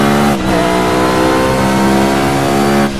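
A McLaren F1 GTR long tail race car in the game Project CARS drones loudly and steadily at high revs, with a brief dip near the start before the engine holds its sustained roar.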